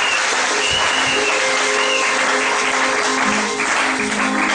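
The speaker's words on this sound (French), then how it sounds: "Oh, applaudissons pour faire." Loud, sustained applause fills a church hall during a French-language sermon, a dense continuous clapping that stays at full strength throughout, with faint tonal sounds under it.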